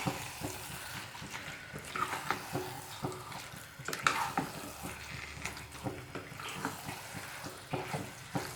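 A spoon stirs chicken curry in a pan, producing irregular scraping and sizzling bursts over a low background hiss, fairly close and unaccompanied by talk.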